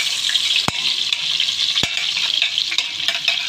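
Crushed garlic frying in a spoonful of butter with a little oil, a steady close sizzle with stirring scrapes and a couple of sharp utensil clicks against the pan.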